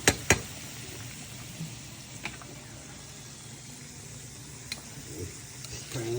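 Chicken livers fry in a pan at moderate heat with a low, steady sizzle, broken by a few soft clicks and pops of utensils, faint and close.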